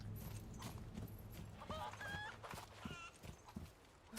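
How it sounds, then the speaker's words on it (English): Chickens clucking and a rooster calling in Resident Evil 4 Remake, several short bird calls over steady low game ambience and rumble, with sparse faint sound effects scattered through. "Rooster shouldn't have any eggs."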